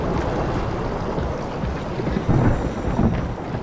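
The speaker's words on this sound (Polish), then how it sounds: "to są odgłosy burzy podstawione pod morze" Roaring storm noise standing in for sea ambience in the video game Soma: a steady, dense wash of wind and surf, loud and continuous, with gusts swelling briefly, and no voices.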